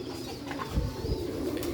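Domestic pigeons coo softly in a Sialkot pigeon-keeping setting, a low, steady burbling from close by with faint background noise and no talk.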